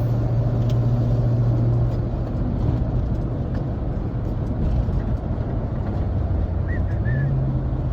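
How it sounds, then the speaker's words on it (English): Truck cruising through Los Angeles traffic, a steady low engine and road rumble heard from inside the cab, loud and continuous, with a faint tonal whine shifting pitch near the end. "we're gonna be on the road for the next 45 minutes"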